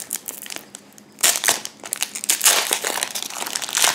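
Foil Pokémon card booster packs from a Japanese display are torn open and crinkled, a loud, close, continuous crackling and rustling that starts quietly and then swells into bursts.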